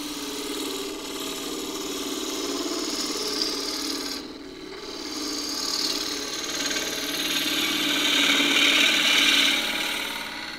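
A half-inch spindle gouge cuts wood on a lathe with the bevel rubbing, giving a steady, close rasping hiss over the spinning workpiece's hum, easing briefly around the midpoint before swelling again.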